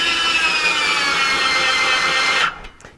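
A power tool drives a headlight adjustment part into a 1963–1967 Corvette C2 headlight assembly, a loud close high whine lasting a couple of seconds before stopping abruptly and leaving faint clicks.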